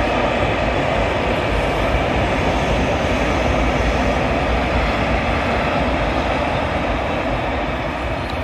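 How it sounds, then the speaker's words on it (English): A heavy, continuous rumble of an empty China clay freight train rolling past at Teignmouth, loud and steady throughout with no pauses or voices. "And a train. Oh, freight."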